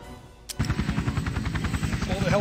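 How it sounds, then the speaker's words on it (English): Helicopters in the Cold War strategy game People's General start suddenly with a loud, rapid, rhythmic rotor chatter that holds steady, with a voice speaking over it. "Pull the helicopters back so they can defend against these Russian tanks"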